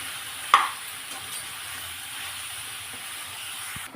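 Goat tripe (boti) curry with masala fries in a pan with a steady, moderate sizzle, broken by a sharp clack of a stirring utensil near the start and a few soft scrapes.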